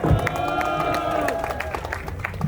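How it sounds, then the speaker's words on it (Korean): A crowd at an outdoor political rally by Mokpo Station applauds a pastor, with steady clapping and cheering that holds at an even level throughout. "우리 김정은 목사님께 뜨거운 박수 부탁드립니다"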